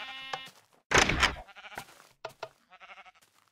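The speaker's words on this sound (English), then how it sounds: "These sheep here are going to cause problems too." Sheep in the Minecraft video game bleat several times, with short wavering calls and one loud, longer bleat near the middle, against an otherwise quiet game background.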